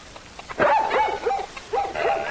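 A dog barks a few times in close succession, sharp yelping barks with brief pauses, loud and near against faint background noise.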